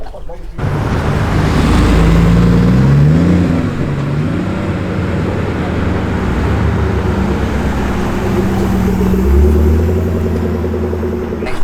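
A Porsche 930 Turbo drives past close by, its engine rumbling loudly and steadily with a revving pitch that rises and falls, sustained for the whole stretch over a constant low roar.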